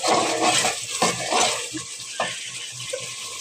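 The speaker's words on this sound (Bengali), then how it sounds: "এই তেল উঠে গেছে, কিন্তু আমাদের মশলাটা কষানো হয়ে যেতেছে।" A spoon stirs spice paste frying in oil in a pan, giving soft scraping strokes over a steady sizzle, close and moderately loud.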